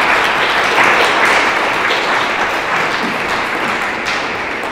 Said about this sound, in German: Vielen Dank, dass Sie hier sind und einen großen Applaus